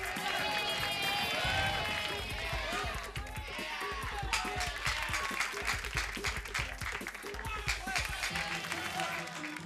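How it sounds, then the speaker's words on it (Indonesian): A studio audience at a comedy TV show applauds in a dense, continuous wash of clapping, with crowd voices and talk mixed throughout. "Tepuk tangan, tepuk tangan."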